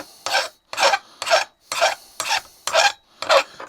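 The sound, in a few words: smoothing the edges of a metal round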